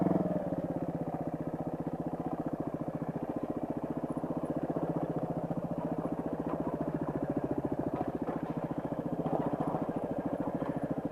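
Suzuki DR200 trail motorcycle climbing a pea gravel hill, its single-cylinder engine droning steadily and close throughout, with a fast, even firing pulse and no speech.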